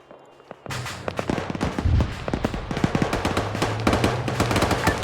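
Rapid gunfire from the video game Arma 3 erupts suddenly after a quiet start, with loud close cracks and repeated bursts over a steady engine-like hum, continuing to the end.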